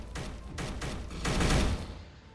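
Rapid weapon fire from a Roblox King Legacy combat game, a dense burst of repeated shots that swells louder midway and then tapers off, with no talking over it.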